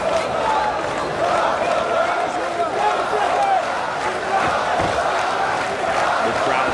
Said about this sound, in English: The crowd supporting the young man born right here in Rio de Janeiro